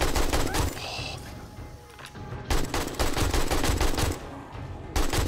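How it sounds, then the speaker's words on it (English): Rapid panic gunfire in the survival game 7 Days to Die, loud bursts of dense automatic shots coming in several clusters with brief pauses between them, near and alone without talk. "Bit of panic firing. It happens."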